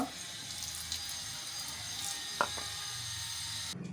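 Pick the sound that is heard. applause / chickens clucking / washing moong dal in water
washing moong dal in water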